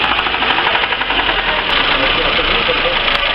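A Lifan car engine runs with an internal knock, a loud steady mechanical clatter with rapid rhythmic tapping over the continuous drone, heard close up throughout.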